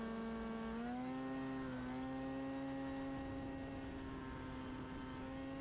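An F5 open-wheel race car at NJMP Thunderbolt accelerates down the straight, its engine holding a steady tone that rises in pitch in two shifts. The engine hums close and continuous throughout.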